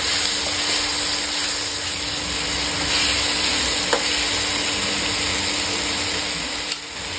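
Guava sabji with salt, spice powder and a small lump of jaggery being stirred in a pan, a steady close sizzle and hiss with occasional faint spoon scrapes.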